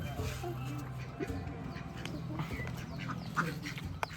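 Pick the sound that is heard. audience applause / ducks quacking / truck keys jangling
ducks quacking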